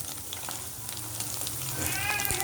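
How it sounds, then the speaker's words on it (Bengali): Two chicken burger patties sizzle and fry in a pan, a steady close crackling hiss that holds at an even level throughout. "আমি এখানে 2টা পেটি ভেজে নিয়েছি"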